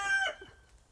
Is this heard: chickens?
yes